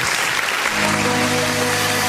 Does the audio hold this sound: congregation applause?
yes